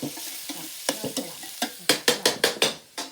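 Cabbage sprouts being stir-fried in a pan: a run of sharp, rhythmic scraping and tossing strokes over a soft sizzle, close and fairly loud, the strokes quickening toward the end with no talking.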